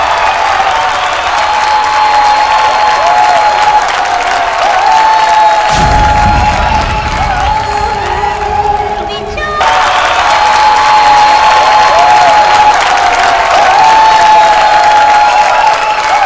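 A stage audience at a televised dance competition bursts into loud, sustained clapping and cheering to welcome a dancer. A short heavier thud-filled burst briefly interrupts the applause before it returns.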